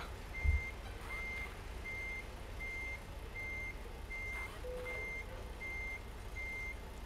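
In the American Truck Simulator video game, a truck reverses slowly into a parking spot, its backup alarm beeping steadily about nine times over a low engine rumble, with no talking.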